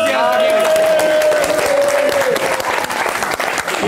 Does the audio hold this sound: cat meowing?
no